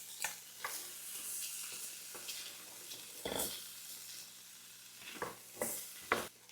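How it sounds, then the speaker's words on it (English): A chopped onion sautés in butter in a pan, giving a quiet, soft sizzle broken by several sharp scrapes and clacks of a utensil stirring; no talking. "we're just going to saute this until the onions are translucent"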